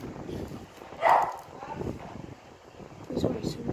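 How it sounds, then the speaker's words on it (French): A pet dog lets out a short bark in an indoor room, a single sharp burst standing out briefly against a steady background hum, with a later voice-like sound near the end. "c'est mon chien qui aboie."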